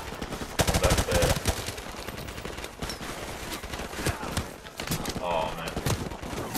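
Rapid gunfire in Call of Duty 4 Remastered, shots aimed at the player in an online match, cracking in dense bursts through most of the stretch with game effects and a voice talking over it.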